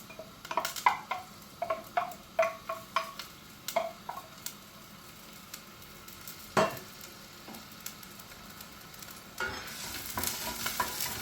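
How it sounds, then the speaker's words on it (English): Chopped onion frying in extra virgin olive oil, a steady sizzle broken by repeated stirring clatters and scrapes of a utensil against the pan, close and moderately loud, with no talking. "So just to heat that through slightly, and I'm adding the onion."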